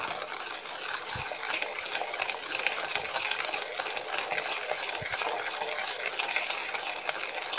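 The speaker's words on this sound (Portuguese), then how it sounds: "Vamos misturar." A spoon stirs chocolate drink powder and sugar into water, giving continuous close scraping and swishing against the container with a few sharper knocks.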